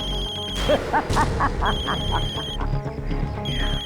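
Telephone ringing in a villa in a horror drama scene, a repeating electronic ring of several regular pulses with short pauses, heard alongside background voices and room noise.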